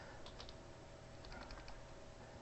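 Soft, quick keystrokes on a computer keyboard, a short burst of faint clicking under a steady background hum.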